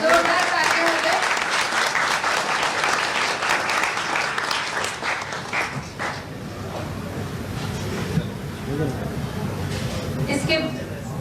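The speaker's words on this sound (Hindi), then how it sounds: "जोरदार तालियां हो जाए।" Loud applause from the audience at a school education and health programme event in Raipur, sustained and dense for about eleven seconds with crowd noise mixed in.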